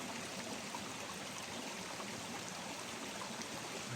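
A small creek flows with a steady, faint, even wash of water, continuous and unbroken, with no voices.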